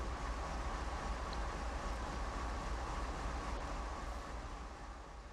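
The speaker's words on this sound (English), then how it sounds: "This locomotive is the AC 4400 CW, built by General Electric Transportation of Erie, Pennsylvania" A GE AC4400CW locomotive in Train Sim World rumbles with a steady, broad engine drone and no breaks, heard alone at moderate loudness.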